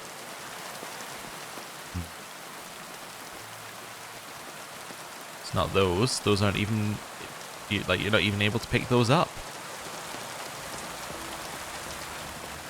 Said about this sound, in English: Rain's pretty bad as well right now.